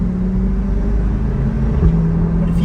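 A 2023 Chevrolet Corvette C8 Stingray's V8 engine hums in a steady, loud low rumble from inside the car, with a slight rise in revs near the end and no talk.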